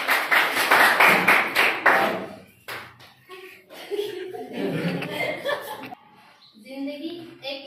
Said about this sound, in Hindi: नेक्स्ट ताली बजा के स्वागत किया जाए।